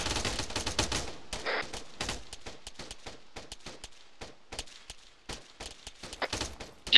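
Gunfire in the Arma 3 video game, with rapid bursts and scattered single shots cracking close and sharp in an irregular volley, no voices over it.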